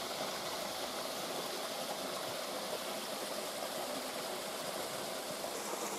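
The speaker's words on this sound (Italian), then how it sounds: "È la cascata del Monardo. C'è poca acqua" Monardo waterfall with low flow, water falling in a steady broadband rush that fills the scene continuously, with no voices over it.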